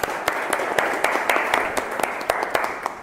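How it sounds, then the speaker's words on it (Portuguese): Class applause during a lecture, a modest group clapping steadily with some sharp individual claps standing out, moderately close and continuous. "uma salva de palmas para o nosso esforço"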